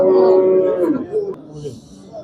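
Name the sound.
cows mooing at a livestock market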